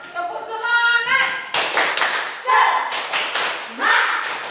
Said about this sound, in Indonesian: Tepuk semangat dulu kita yuk.